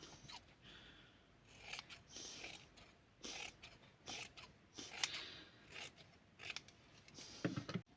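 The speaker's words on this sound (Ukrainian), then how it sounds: "оцю тканину, що ми будемо ставити на замочок, розрізаємо на дві частини" Scissors snip through denim fabric and bag lining in a string of short, uneven cuts, close and fairly quiet, with no one talking.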